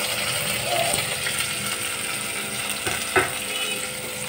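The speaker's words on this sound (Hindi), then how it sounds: "इसको मैं अच्छे से फ्राई करूँगी।" Tomato, capsicum and carrot fry in a pan with a steady, close sizzle that holds throughout, broken by a brief stirring knock near the end.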